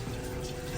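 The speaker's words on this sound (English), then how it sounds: "run water into this tube and make sure that you have water coming out of there" Water runs steadily through the drain tube of a fryer oil pan, giving a continuous close rushing, gurgling wash with no break and no talk.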